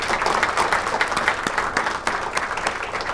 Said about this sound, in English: Can we give our sponsors a round of applause